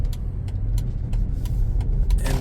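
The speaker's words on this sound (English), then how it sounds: "this V8, It's got some power" A Mercedes-Benz ML500 W164 V8 engine, 2006 model, runs with a steady low drone, with brief sharp clicks and knocks on top and no talking.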